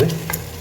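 Mutton that was boiled beforehand is stirred into curry masala with bottle gourd and potato in a hot pan, giving a short close sizzle with a scrape of stirring and a brief louder clatter at the end.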